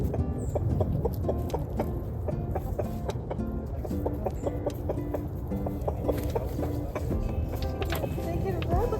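Chickens cluck and murmur continuously in an outdoor chicken run, several birds at once with soft scattered calls, moderately close over steady background noise.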